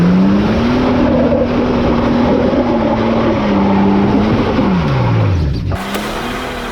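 A Mercedes off-road machine on BF Goodrich tyres grinds up a slope, its loud engine droning steadily then dropping in pitch as it labours, before cutting to a lower, quieter idle near the end.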